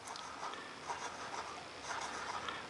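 A Swan Mabie Todd leverless fountain pen with a number 2 flexi nib scratches softly across paper, a faint, continuous close-up writing sound with slight rhythmic strokes.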